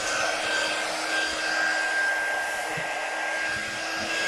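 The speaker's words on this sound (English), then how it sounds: "I just have to plug in my dryer here." A hair dryer blows steadily at close range, a constant whooshing whine with a high tone that holds the whole time.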